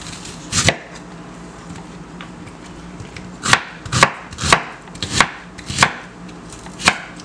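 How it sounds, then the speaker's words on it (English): A knife chopping an onion on a cutting board for salted codfish gravy, sharp close knocks at an uneven pace, about eight strikes with quiet gaps and no talk. "This is how I cut the onion."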